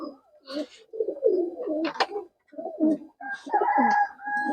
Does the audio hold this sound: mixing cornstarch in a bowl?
no